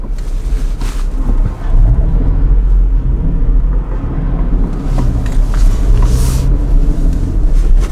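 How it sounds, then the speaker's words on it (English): A Toyota Tacoma TRD pickup truck with a manual transmission and a V6 engine drives along, heard as a loud, steady low rumble of engine and road noise from inside the cab, with no talk. "Driving a Tacoma."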